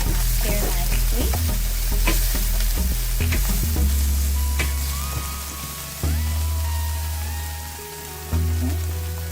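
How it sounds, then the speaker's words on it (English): Steady, loud sizzling of fresh garlic frying in a hot pan for chicken chow mein, with scraping stirs near the start and occasional crackling pops throughout. "There's the fresh garlic frying up here nicely."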